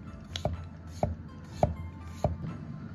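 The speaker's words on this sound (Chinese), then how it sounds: "现在开始切片儿，2毫米厚的片儿是最标准啊" A kitchen knife slices a potato into thin 2 mm slices on a cutting board, four evenly spaced crisp thuds against the board at close range, with no talking.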